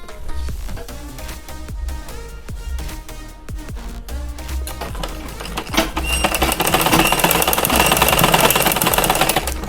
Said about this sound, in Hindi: तो अब हम फिटिंग की सिलाई लगा रहे हैं।